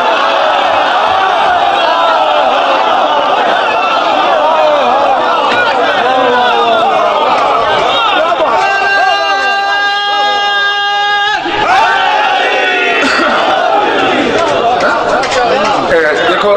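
A crowd at a religious gathering of Shia preacher Allama Ghazanfar Abbas Tonsvi raises loud, sustained chanted slogans in unison amid a general babble of voices. The held chant swells in the middle, then breaks back into crowd noise.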